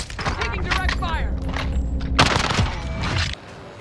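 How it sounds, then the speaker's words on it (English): Gunfire in the Warzone video game comes as a loud burst of rapid shots and thuds, with voices talking over the firing. "Taking direct fire!"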